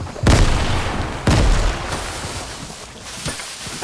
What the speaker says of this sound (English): Who's throwing grenades?